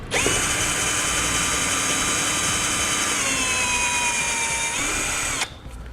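A power drill with a 5/16 bit whines steadily at high speed for about five seconds through plastic, its pitch sagging slightly partway through as it bites, then cuts off.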